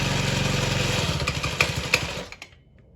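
A tiny kid's motorcycle with a pull starter runs at a steady, close putter, its rear wheel turning while it should not, then cuts out into quiet near the end.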